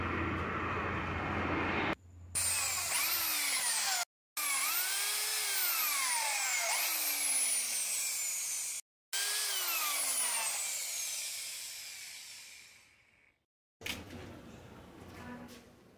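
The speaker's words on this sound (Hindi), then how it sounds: "प्लांट्स के ऊपर ड्रिल से होल करेंगे नट बोल्ट लगाने के लिए" A power drill bores holes into wooden planks in a workshop, with rising and falling whines over repeated bursts separated by brief pauses, then a winding-down finish and a short noisy tail.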